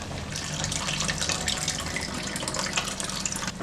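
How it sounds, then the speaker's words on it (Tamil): Tamarind water is poured into a pot of dried-fish curry, making a steady, continuous splashing pour close by that lasts the whole moment without pause. "அந்த புளி தண்ணியை இதில் ஊற்றிடலாம்."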